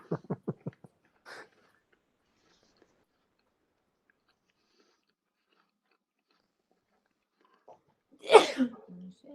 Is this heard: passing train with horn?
no